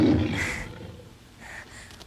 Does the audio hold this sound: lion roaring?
yes